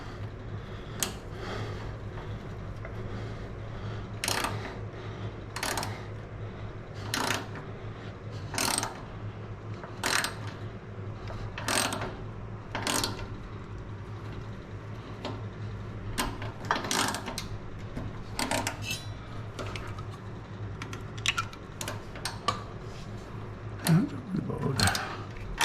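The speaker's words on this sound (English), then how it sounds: "got me a ratchet and a 1/4 inch square socket" A ratchet with a 1/4 inch square socket drives a tap on a 2nd Gen Cummins, giving a series of regular short ratcheting clicks spaced about a second apart over a low steady background hum.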